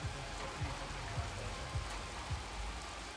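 Steady rain falls on an outdoor football field during a game, a dense continuous wash with a few low thumps recurring roughly every half second, no voices.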